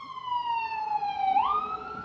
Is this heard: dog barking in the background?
no